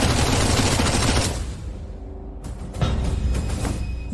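Sustained burst of automatic gunfire, loud and dense for over a second, then a brief lull before scattered shots and clatter resume in a noisy action scene.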